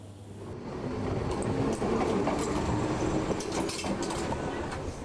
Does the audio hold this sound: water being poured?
no